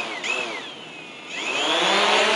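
A DJI Mavic drone spins up its props and lifts off to hover close by, a loud whining buzz that rises and wavers in pitch as it climbs and steadies.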